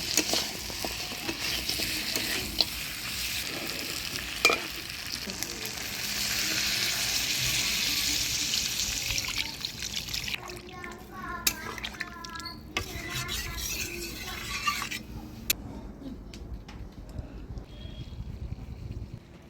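Broth poured into fried mutton curry in a pan: loud hissing sizzle that swells as the liquid goes in, then settles into softer bubbling with a few utensil knocks.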